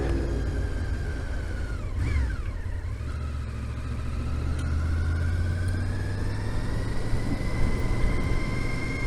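A Ferrari sweeps past with a loud engine drone, its pitch bending downward around two seconds in as it passes close, then a steady engine tone and road rumble carry on throughout.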